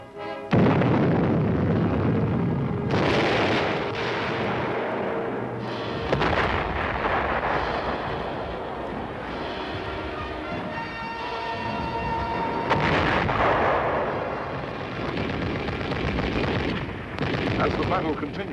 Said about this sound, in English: As the battle continues, more and more missiles reach their pre-selected firing sites and are thrown against the enemy.